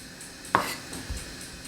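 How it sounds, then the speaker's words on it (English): A single crisp knife stroke cuts through a tomato onto a cutting board, followed by a soft thud of the blade settling, close and quiet with no talk. "we're gonna slice this tomato to use on our pizza"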